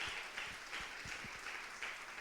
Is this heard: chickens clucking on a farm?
no